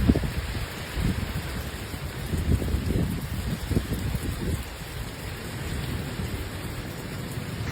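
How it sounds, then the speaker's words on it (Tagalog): Steady rain pours down in a forest park, a dense, even hiss on the ground and leaves, with low rumbles of thunder underneath throughout and no talking. "Tignan nyo ang ulan."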